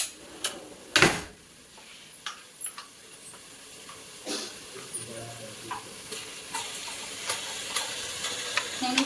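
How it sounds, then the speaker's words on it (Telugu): Ginger garlic paste frying in a pan for a chicken dish, giving a steady close sizzle with scattered stirring scrapes and a sharp clatter near the start, with no voices. "అండ్ ఇప్పుడు మనం అల్లం వెల్లుల్లి పేస్ట్ అయితే వేసుకుందాం."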